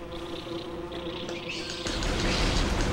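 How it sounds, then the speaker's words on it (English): Wasps in the Metroid Prime video game, a close, steady insect buzz that grows louder and rougher partway through, with no voices. "Murder the wasps."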